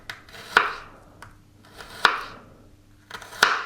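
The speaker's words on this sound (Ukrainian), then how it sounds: "І потім нарізаємо мелко, щоб дав свій смак і аромат." Garlic cut finely with a knife on a board, three distinct sharp chops spaced more than a second apart, close and clear against a quiet background.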